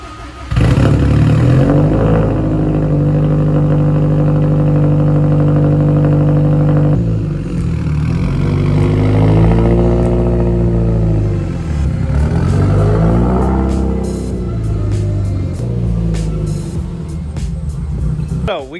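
A car called Stella is driven out of a garage, its engine idling loudly and then revving in rising and falling sweeps, with voices audible over the engine.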